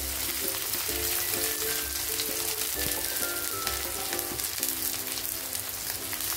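Chopped onions fry in hot oil in a wok for noodles, giving a steady, close sizzle with occasional stirring scrapes. No one speaks.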